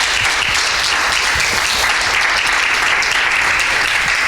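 A congregation at a church service bursts into strong, continuous clapping, a thick wash of many hands kept up at full volume throughout with no pause.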